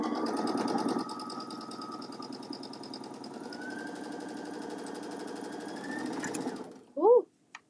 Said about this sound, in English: So now I'm going off of the apron and just tying or sewing the ends of the tie.